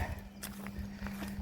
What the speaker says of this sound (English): on the way out of the campsite today to the car, I saw 30 or 40 people on horses